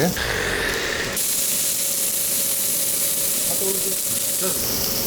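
Thin-sliced beef brisket sizzles on a hot grill at a Korean beef barbecue restaurant, a steady loud frying hiss with a sharper burst at the start and continuing unbroken.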